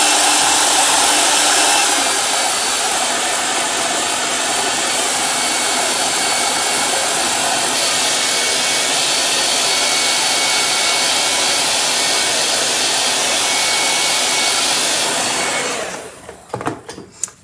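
A hair dryer blows a loud, steady, close-up roar while drying white Liquitex gesso, running without a break and then cutting off near the end, followed by a few handling knocks.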